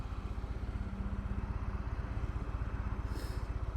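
A 2018 Harley-Davidson Fat Bob with a 114 engine rumbles steadily while cruising through Canberra, a deep, even pulsing throb close by with a brief whoosh of wind near the end.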